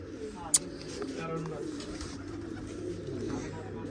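Pigeons coo softly at a rooftop loft, low murmuring calls running under people talking nearby, with one sharp click early on.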